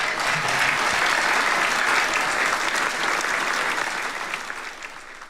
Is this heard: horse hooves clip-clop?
no